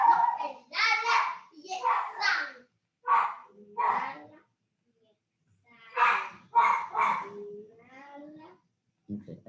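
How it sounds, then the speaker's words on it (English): Two schnauzers barking in the background of a home while someone talks, short bursts of barking and yipping mixed with the voice. "Sorry about the background barking,"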